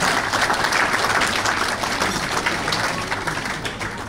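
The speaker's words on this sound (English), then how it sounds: "So a big round of applause to those guys." An audience at an 8 ball pool championship presentation applauds, a dense steady round of clapping that fades slightly toward the end.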